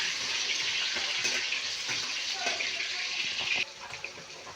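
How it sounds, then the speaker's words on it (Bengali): Potatoes frying in a pan as they are stirred, giving a steady bright sizzle with occasional scraping clicks from the stirring, which drops off abruptly near the end. "আমি একটু নেড়ে দিই আলুগুলো ভালো করে।"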